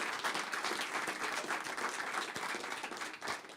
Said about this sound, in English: please give Robyn and Khanya a big round of applause for a phenomenal evening